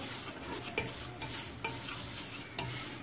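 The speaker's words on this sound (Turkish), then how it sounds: "şimdi kavurmaya devam ederken fındığımı ekliyorum" Semolina for halva roasts in a pan, stirred continuously with a soft scraping sizzle and three light utensil taps against the pan at regular intervals.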